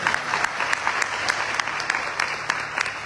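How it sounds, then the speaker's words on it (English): Sustained applause from a crowd at a Sharad Navaratri night gathering at a Hindu temple, dense steady clapping with occasional sharper claps standing out, loud and continuous throughout. "She deserves another round of applause."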